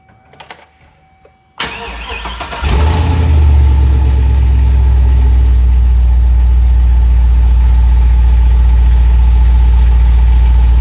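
A car engine cranks and fires up after a transmission change, starting with a few quiet clicks, then a starter whir. It catches into a loud, steady, close idle that drones on evenly.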